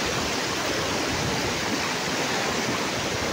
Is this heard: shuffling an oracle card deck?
no